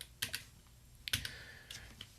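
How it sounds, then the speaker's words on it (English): Several quick bursts of computer keyboard typing in short clusters, clicky and close, in a quiet room with no talking. "Uh-oh, keyboard not working."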